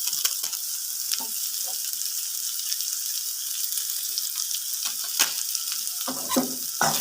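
Egg noodles fry with Maggi masala stirred through them in a pan, giving a steady, close sizzle with scattered scraping and stirring knocks. No one speaks.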